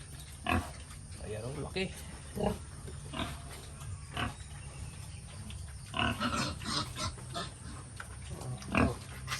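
A pregnant sow grunts in a pen with low, rough snorts in short bursts every second or two, close to the microphone and continuing under a person talking.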